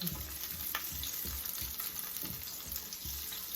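Garlic frying in a pan gives a constant hiss, with regular, low scraping bursts as it is stirred about every half second; no talking.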